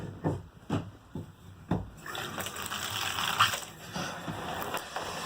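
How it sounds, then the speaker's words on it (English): Water gushes from a newly installed bathtub spout in a fiberglass tub, beginning after a few knocks and handling sounds and then running as a steady, close splashing stream. "Turn your water back on."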